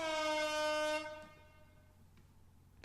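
Deep, sustained foghorn-like horn blast in the horror game Corpse Party, loud and alone for about a second with a rich stack of harmonics, then cutting off into a quieter low hum.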